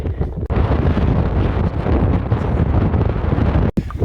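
Strong mountain wind in the Rangitata high country roars loud and close against the microphone, buffeting steadily for several seconds before dropping out abruptly near the end.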